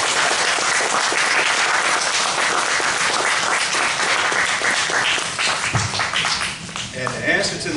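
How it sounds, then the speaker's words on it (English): A church or lecture audience gives a round of applause, dense continuous clapping that thins out near the end as a voice begins speaking over it. "Can we get him a round of applause again,"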